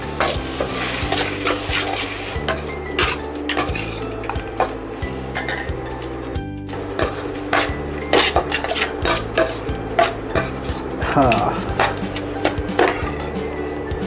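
Puffed rice upma with turmeric powder and dry red chilies is stirred in a frying pan, a run of repeated scraping and clinking strokes over a light sizzle, with music playing underneath.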